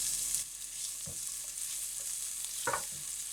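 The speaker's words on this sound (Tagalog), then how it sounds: "maggisa tayo ng bawang at sibuyas dahil gagawin na natin yung hamonado sauce" Garlic and onion sauté in a pan for a hamonado sauce, giving a faint, steady sizzle with a few scraping stirs of a utensil against the pan, close up and without voices.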